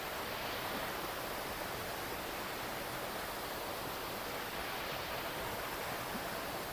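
Spring water pours steadily down rocks beside a hillside Ganesh temple carved into a single stone, a constant broadband rush close by with no voices.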